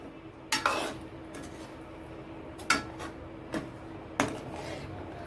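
Veg cutlets being stirred into a pan of Chinese-style sauce: four sharp spoon-on-pan knocks and scrapes spaced irregularly over a quiet, faintly hissing background, no voices.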